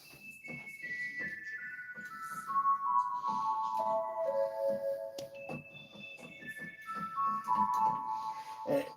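Bright, flutey pipe organ notes on a nazard stop play a descending run, then a second similar run, each pitch clear and reedy, moderately quiet with a soft background.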